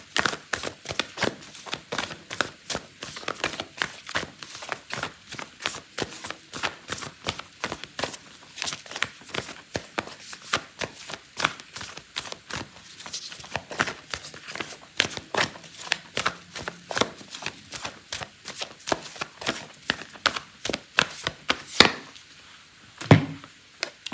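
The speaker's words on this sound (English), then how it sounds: "Okay, so I'm going to pull out an oracle card for you" Oracle cards shuffled by hand during a tarot reading, a long run of rapid, crisp riffling flicks in a steady close rhythm, with a brief louder handling sound near the end and no talk.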